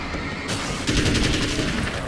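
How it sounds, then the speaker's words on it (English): An assault rifle in the video game Alan Wake's American Nightmare rattles off a rapid burst of gunfire that starts partway through and continues loudly to the end. "I want to see how the assault rifle works"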